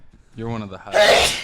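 A single short sneeze right after a brief spoken phrase, close and fairly loud, ending in a breathy burst.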